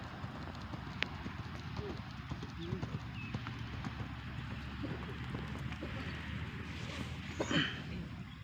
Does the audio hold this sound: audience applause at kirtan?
no